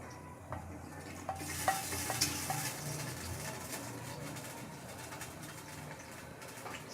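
Cumin and nigella seeds hit hot ghee and set off a quiet, continuous sizzle with faint crackles that builds after a brief quieter start, plus an occasional light clink of a pan.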